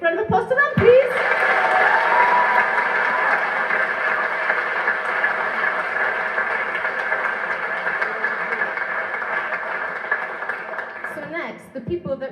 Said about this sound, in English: Big round of applause to them, please.